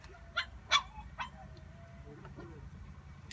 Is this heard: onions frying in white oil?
no